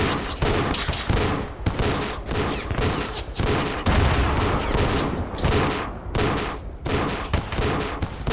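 Sustained gunfire and explosive bursts from a firefight in the video game Arma 3, including a thrown grenade; loud, dense overlapping shots and booms fill the whole stretch with no pauses.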